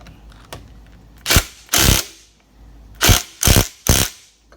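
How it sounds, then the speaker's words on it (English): Impact wrench tightening a bolt on the stator cover of a Yamaha Blaster ATV; five loud, close, sharp bursts in quick succession with short gaps, no talking. "And you're going to want to impact it down."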